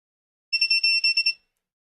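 A 7-inch FPV drone sounds a shrill electronic alarm, a quick run of about eight close beeps in under a second, loud and alone, with silence on both sides.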